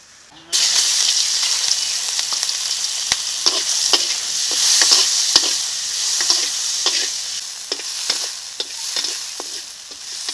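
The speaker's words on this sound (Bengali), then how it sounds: "চিংড়ি মাছগুলো ভাজা হয়ে গেছে, এখন নামিয়ে নিচ্ছি।" Prawns coated in salt and turmeric fry in a little mustard oil in a karai, giving a steady, close sizzle and hiss with sharp spatters and stirring clicks throughout.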